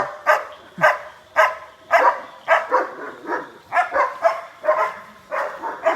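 A caged dog barks repeatedly in a steady rhythm, about ten sharp barks spaced evenly, fairly close and loud, with no talking over it.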